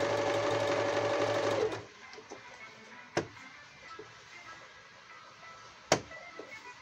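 A Yokoyama sewing machine with a broken screw in the needle clamp stitches steadily at close range for under two seconds, then stops, followed by a few sharp mechanical clicks and taps.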